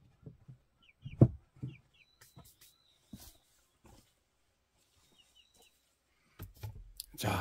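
Chickens in a covered coop give faint, scattered clucks and high chirps, with quiet rustling and handling noises nearby and a few louder knocks.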